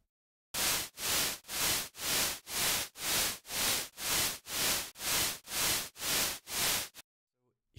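Loud white-noise hissing shaped by an oscillator pulses on and off in a steady rhythm, about eleven evenly spaced swells, then cuts to silence.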